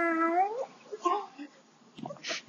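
A person imitates a cat, giving a drawn-out, wavering meow followed by shorter mewing calls and breathy vocal sounds, close and fairly loud.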